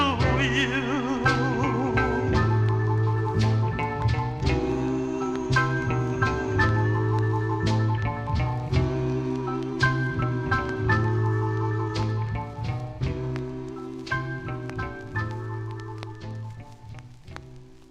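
A doo-wop R&B record plays from a vinyl 45, with a steady beat, bass and layered voices running continuously.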